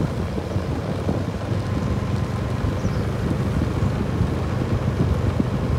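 Strong typhoon wind from Typhoon Yagi roars steadily on the outskirts of Hanoi, a dense, continuous low rumble with microphone buffeting throughout and no voices.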